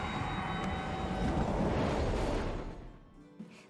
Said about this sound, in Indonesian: Kereta api pun meluncur dengan cepat ke arah langit.